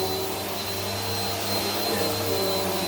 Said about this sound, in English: I'm going to turn the vacuum off here in a minute